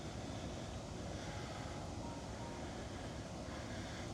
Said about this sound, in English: there's a waterfall right there, a man-made waterfall